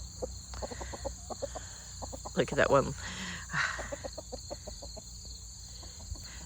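A backyard flock of chickens with a rooster clucks in soft, rapid repeated calls, with a brief louder squawk in the middle, while crickets chirp steadily underneath and a person speaks briefly.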